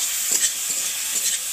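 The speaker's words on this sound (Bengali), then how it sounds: "এবার আমি ওটা আলুটা আর বেগুনটা তুলে দেবো, দিয়ে একটু নেড়ে নিয়ে জল ঢেলে দেবো" Pieces of potato and eggplant are stirred in a hot frying pan, giving a brief steady sizzle with soft scraping strokes, close up.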